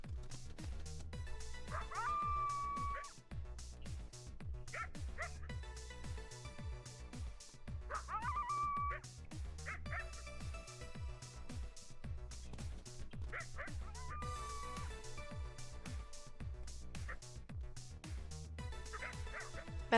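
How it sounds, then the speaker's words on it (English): Dogs bark and yip repeatedly in the WolfQuest wolf video game, a series of short bark bursts every few seconds over a dense, steady game soundscape with low rumbling ambience. "I don't super love how I'm hearing dogs barking."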